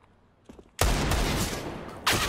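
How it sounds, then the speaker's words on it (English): AWP sniper rifle fire in Counter-Strike: Global Offensive during a pro match at DreamHack Masters Spring 2020, with two loud, booming shots about a second apart, each followed by sustained noisy game action. "Fallen laying down the law with the AWP at a distance"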